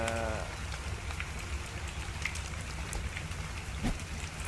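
Steady patter of rain falling in the video game ARK, a soft constant hiss with scattered drops, while a tonal game sound briefly rises at the start.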